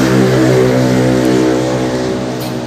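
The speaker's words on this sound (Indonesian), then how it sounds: "Bus Putra Pelanginya keluar dari peron keberangkatan." Putra Pelangi bus pulling out of the departure platform at a Pekanbaru terminal, its engine a loud, steady, close diesel drone with a low harmonic hum that eases off slightly toward the end.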